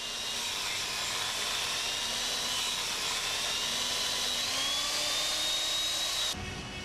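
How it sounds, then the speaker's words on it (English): A grinding wheel works the end face of a steel rail in preparation for gas pressure welding, a steady high whine running continuously, close and loud, then cutting off sharply at the end. "move the wheel up and down to grind the end surface of the rail perpendicularly"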